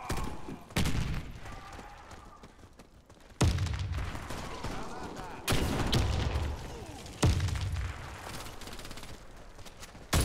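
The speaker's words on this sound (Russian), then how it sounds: "Кидаю гранату!" Grenade blasts in a video game battle: several heavy booms land at intervals, with gunfire and crackling between them and a low rumble that stays close and loud.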